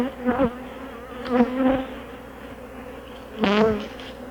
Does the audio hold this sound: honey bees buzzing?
yes